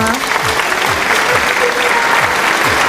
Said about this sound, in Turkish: Koca bir alkış sana